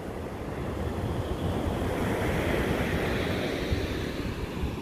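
Surf breaking on an ocean beach at Sea Bright, New Jersey, with steady wind buffeting the microphone; a continuous, loud wash of waves and wind noise throughout, with no voices.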